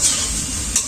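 Chicken curry in a pot in a village kitchen is stirred close up, with a soft scraping swish over a faint sizzle for about a second.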